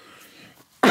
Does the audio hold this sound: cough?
yes